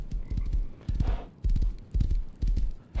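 Horse hooves clip-clop in the Rust console video game, a steady walking rhythm of paired thuds at close range with no talking over them.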